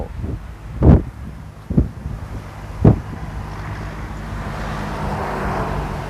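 Strong wind buffets the microphone outdoors on open land near a dormitory building, with several loud gusts in the first three seconds, then a steady rushing roar.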